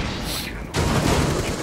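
In a Rainbow Six Siege match, a sharp blast cuts in abruptly partway through, followed by a dense burst of gunfire and rumbling debris, loud and close, with players talking over the action.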